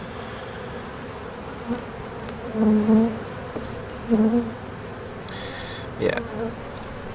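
Honeybees buzz steadily around an open hive during a first spring checkup, a close, continuous hum with a few louder swells and a brief spoken word.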